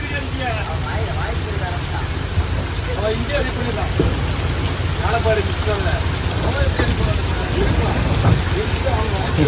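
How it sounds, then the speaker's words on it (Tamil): Heavy rain pouring on a deep-sea fishing net boat in rough wind and sea, a loud, dense, unbroken hiss of drops with a voice speaking over it. "மழை இன்னும் நிற்கிற மாதிரியே தெரிலங்க இந்த மாதிரி அடிச்சுக்கிட்டே இருக்குன்னு பாருங்களேன்"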